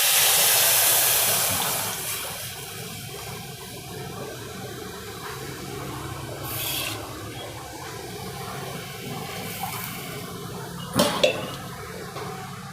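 Buttermilk kadhi mixture is poured into a pot of crackling cumin tempering, making a loud sizzling hiss at first that settles into a steady bubbling simmer, with a clink of utensils near the end.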